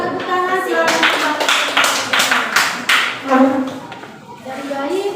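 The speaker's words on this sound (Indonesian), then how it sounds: "Ya, tepuk tangan silakan." Students in a classroom clap their hands in uneven bursts of sharp claps, mixed with voices speaking and chanting alongside.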